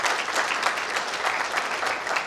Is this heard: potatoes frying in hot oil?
no